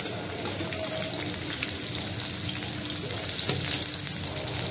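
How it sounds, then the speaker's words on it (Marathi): Green chilies dropped into hot oil in a kadhai, a dense steady sizzle and crackle filling the whole stretch, close and fairly loud with no voices. "इथे मी दुसऱ्या कढईमध्ये तेल गरम करायला ठेवलेलं होतं, त्यामध्ये हिरवी मिरची टाकायची आहे"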